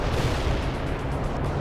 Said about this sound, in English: Heavy artillery barrage inbound.